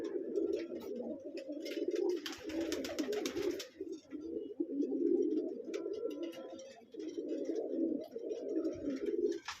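Pigeons in a loft coo steadily and close by, their low throaty calls overlapping almost without pause, with a brief flutter of higher rustling partway through.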